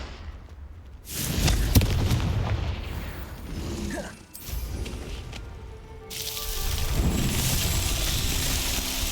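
Confringo fire spell in the video game Hogwarts Legacy: a sharp burst erupts and rolls into a sustained rumble, a brief lull follows, then another long, loud fiery roar with mechanical clanks.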